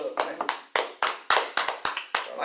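A handful of sharp, close hand claps in an uneven rhythm, about nine distinct slaps spaced irregularly over a couple of seconds, loud and alone.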